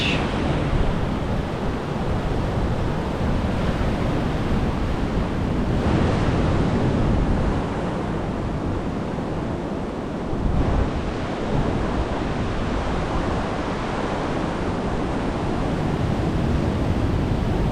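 Ocean surf rolls onto a secluded Los Angeles beach, a continuous broad wash of breaking waves with heavy wind buffeting the microphone, steady and loud throughout, no voices.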